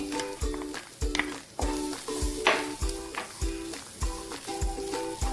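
Nuts and grated coconut frying in a pan for a stuffed banana dish, with a steady close sizzle broken by repeated scraping stirs of a spoon about once a second.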